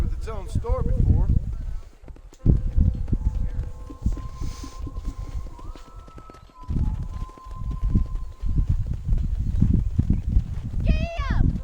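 A horse in Red Dead Redemption clip-clops at a quick pace in rhythmic hoof beats under frequent spoken dialogue, with a horse whinny at the start and another at the end.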